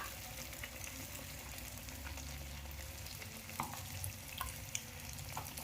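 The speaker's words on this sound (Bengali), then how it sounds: "ভালোভাবে এক পাশটা ভাজা হয়ে গেলে ওটাকে উল্টে দিয়ে আবার এই পাশটা ভেজে নিতে হবে।" Malpua frying in hot oil, a steady soft sizzle and bubbling heard close up, with occasional light clicks from a utensil over the constant hiss.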